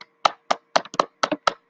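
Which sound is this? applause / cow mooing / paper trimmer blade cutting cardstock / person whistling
applause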